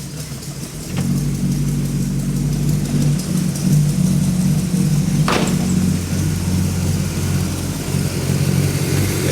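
A freshly rebuilt car engine with a newly broken-in camshaft runs steadily and loud, its low drone holding through gear changes, with a sharp clack near the middle and no talking.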